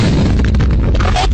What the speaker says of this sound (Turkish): Arkadaşlar Toros patladı.